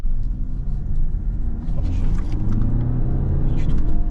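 An Audi RS7 engine under throttle: a deep, continuous rumble that swells and grows louder toward the end, heard up close.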